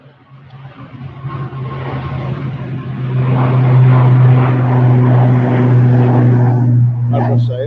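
An ATR turboprop airliner departing Manchester Airport, its engine drone and propeller hum swelling from moderate to loud and holding steady, with someone talking over it.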